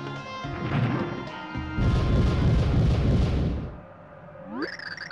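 A crashing explosion from the video game Super Paper Mario bursts out, a loud booming smash that rumbles for a couple of seconds and fades, followed by a rising chime-like game tone.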